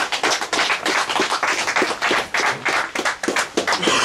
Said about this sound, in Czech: potlesk ještě jednou pro Infinity Baits